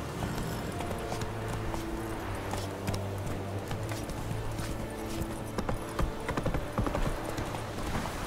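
Geralt's horse Roach trotting in The Witcher 3: Wild Hunt, a steady, close clip-clop of hooves on a hard road that runs throughout under ambient game sound.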